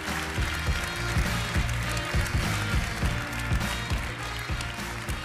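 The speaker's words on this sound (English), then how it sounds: "Please salute them and give them a generous round of applause." Steady, generous crowd applause for the best five players at the Turkish Airlines EuroLeague awards ceremony, a dense sustained wash of clapping in a large venue with music playing underneath.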